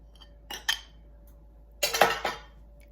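A metal utensil clinks and scrapes against a baking dish while enchilada sauce is spread over a beef enchilada casserole. Two short clusters of light taps are separated by a quiet pause.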